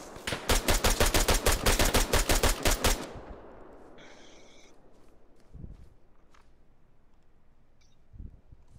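Enemy gunfire in a video game rattles in a rapid automatic burst of about twenty loud shots, then cuts off into quiet with faint footsteps and a few soft thuds.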